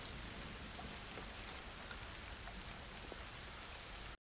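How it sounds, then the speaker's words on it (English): Rain falling through a leaking inn roof, a steady dense patter of drops with scattered sharper taps, soft and continuous before cutting off abruptly. "various pots and pans lie on the floor to catch the rain as it falls through"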